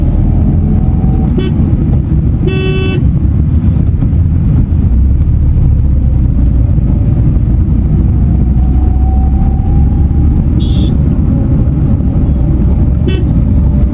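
Tata Nano small car moving through city traffic in India, with a constant loud engine and road rumble and a few short car horn toots from nearby vehicles.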